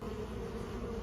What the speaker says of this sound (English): They coming out, they mad now. That's some mad bees.